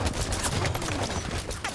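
Video game gunfire aimed at a teammate, a dense, continuous rattle of shots over a loud, busy background.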